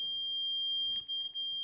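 A Luggie Eco or Elite mobility scooter gives a steady, high electronic beep when its hazard light button is pressed in, running continuously at close range and moderate level with no talk.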